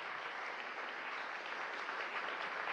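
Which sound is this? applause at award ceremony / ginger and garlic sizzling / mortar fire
applause at award ceremony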